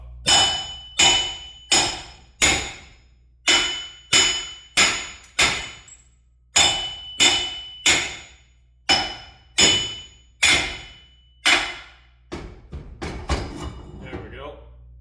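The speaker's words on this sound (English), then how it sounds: "I'm just pounding it up and down to break it off." A hammer pounds a weld off the axle of a restored vintage 1964 Little Champ camper trailer. About fifteen loud, ringing metal clangs come at a steady beat, close up, ending in a burst of quicker, lighter blows.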